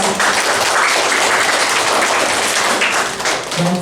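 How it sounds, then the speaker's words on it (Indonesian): An audience at a Catholic scripture course applauds. The clapping is dense and steady, loud and close, with no talk over it. "Kita beri tepuk tangan"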